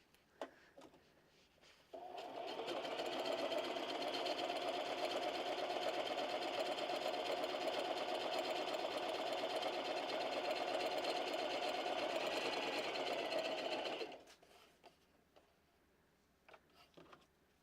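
A sewing machine stitches fabric in one steady, continuous run of about twelve seconds, with a close, even whir that starts and stops abruptly and is heard on its own with no talking.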